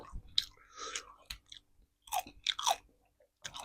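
Close, crunchy chewing of roasted chicken feet bones, eaten alongside spicy papaya salad with fresh shrimp: irregular bites and crackling crunches in short bursts, separated by brief quiet gaps.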